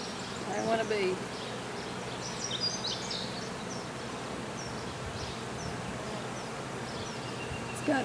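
Honey bees buzzing around a backyard hive, a soft continuous drone from many insects close by, with occasional birdsong in the background.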